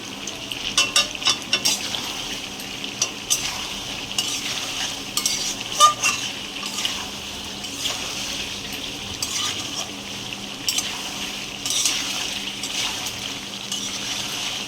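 Frying potatoes with tomato sauce stirred in for a home-style aloo dum, a steady sizzle under repeated spatula scrapes and taps against the pot, close and continuous with no talk.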